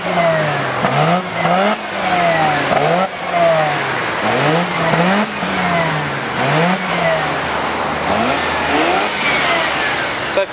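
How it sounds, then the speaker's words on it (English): A Mazda RX8 rotary engine at a Japanese car dealership is revved in a series of repeated short blips, each rising and falling quickly, loud and close, with idle between them. "Give it a rev."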